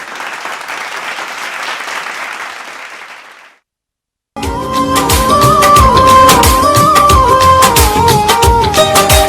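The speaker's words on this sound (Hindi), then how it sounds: "आप लोगों से दरख्वास्त करूंगी कि बच्चों का हौसला अफजाई करें और तालियां बजाएं।" An audience at a school's annual program claps for a children's performance, a loud, dense wash of applause for about four seconds that fades out before music begins.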